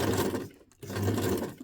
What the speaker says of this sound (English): I don't even know if I'm sewing it in the center.